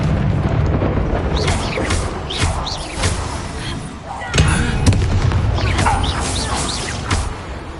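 The Confringo blasting spell in the Hogwarts Legacy video game sets off loud, repeated booms and crackling blasts over a dense, rumbling battle background.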